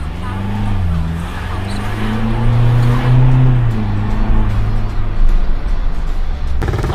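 A Ford Everest SUV, upgraded for more power after two years of use, revs its engine close by. The exhaust note rises and falls in a deep, droning pitch sweep, ending with a sudden louder burst.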